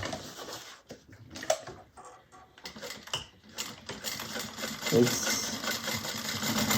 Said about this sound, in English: Okay, so now I've sewn the box.